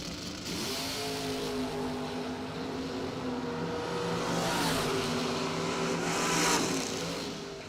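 Drag racing cars at the DoorSlammer Nationals, engines droning with steady harmonic tones that swell and rise as the cars run, heard from a distance with crowd-level ambience and no talk.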